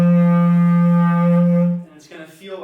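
A bass clarinet played with too little mouthpiece holds one steady, pinched and buzzy tone for about two seconds, loud and close, before it stops and a short scrape of handling follows.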